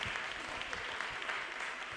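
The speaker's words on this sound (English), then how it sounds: "Everybody give them one last round of applause" An audience at a product management conference gives a final round of applause, a dense, continuous patter of many hands clapping at close range with no break.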